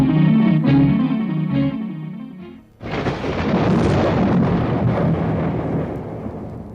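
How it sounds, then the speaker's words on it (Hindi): A loud, roaring storm gust with thunder-like rumble bursts in as a radio drama effect, following a short musical cue, and sweeps on continuously as wind, with no talk over it. "एक दिन अचानक जोरों की हवा के साथ तूफान उठा।"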